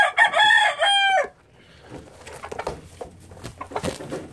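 At a poultry showmanship event, a rooster crows loudly and close, a single long call, followed by softer scattered clucks and rustling.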